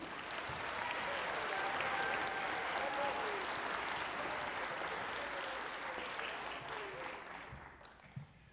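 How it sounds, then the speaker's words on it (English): An audience at a high school winter band concert gives sustained, full applause in a large hall, holding steady for several seconds before tapering off at the end. "Please, one more big round of applause for the Concert Cadet Band."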